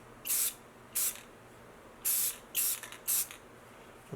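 Light bursts of spray paint misted onto a carved wooden Native American figure screwed onto a scrap-wood paint stick, five short hissing puffs with brief pauses between them, close and alone.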